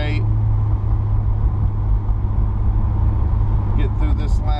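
A 1968 Plymouth Road Runner driving along curving roads, its engine giving a steady low rumble with road noise heard from inside the car, loud and continuous, with a voice speaking over it.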